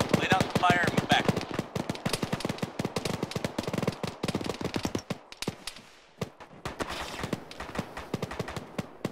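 Rapid gunfire rattles through a military video game firefight, dense bursts of shots and automatic fire cracking close and loud, pausing briefly before another cluster of shots follows.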